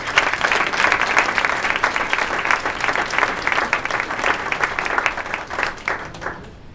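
A room full of people breaks into sustained, dense applause for a debate moderator at a mayoral candidates' event in Victoria, then tapers off near the end.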